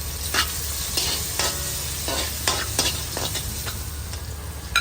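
Garlic and ginger fry in hot cooking oil for squid adobo, a steady close sizzle broken by repeated scraping stirs of a utensil in the pan, with no talk.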